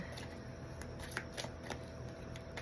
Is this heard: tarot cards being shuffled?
yes